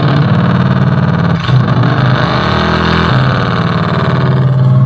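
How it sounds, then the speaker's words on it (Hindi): Simulated motorcycle engine sound from a Komaki Ranger electric cruiser bike as the throttle is twisted, a loud, close, continuous engine-like drone with a brief rev and shifting pitch, no talk over it. "तो जैसे अगर आप रेस देते हो तो बाइक वाली साउंड आपको मिलने लगेगी।"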